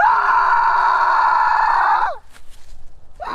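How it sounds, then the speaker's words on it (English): A man in a short film lets out a sustained, harmonically rich scream lasting about two seconds, rising and then cutting off abruptly, followed by quieter rustling and a brief resumption at the end. "Axel lets out a blood-curdling scream"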